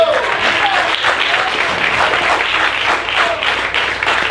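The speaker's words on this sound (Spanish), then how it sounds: "Fuerte, fuerte el aplauso para Jesús." A church congregation claps for Jesus during a Spanish-language evening service, a loud, sustained wash of many hands clapping together with faint cheering voices mixed in throughout.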